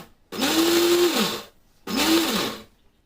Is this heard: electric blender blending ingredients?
yes